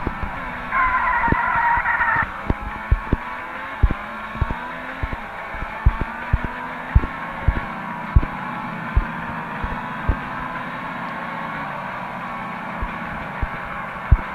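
A car in the mobile game Extreme Car Driving Simulator drives with a steady engine drone and a fading high whine near the start, marked by sharp ticks and thuds at irregular intervals, with no talking.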